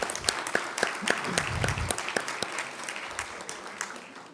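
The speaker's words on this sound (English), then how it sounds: "So I just want to give you all a round of applause." A crowd applauding steadily, many hands clapping at once, with a few sharper claps standing out near the front before it slowly thins.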